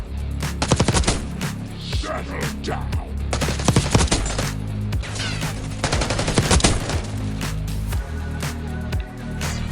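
Sustained automatic fire from a gun in Call of Duty Black Ops 6, loud rattling bursts of shots with booming low impacts, running almost nonstop with brief dips between volleys.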